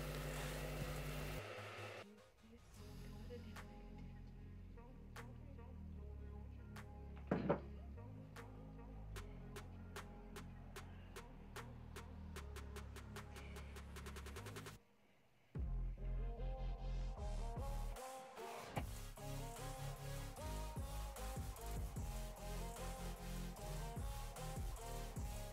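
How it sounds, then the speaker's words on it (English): A hair dryer blows hair dry after an evening shower, a loud steady whir that runs throughout, briefly cut off midway and then restarted at full strength. "I'm going to blow dry my hair"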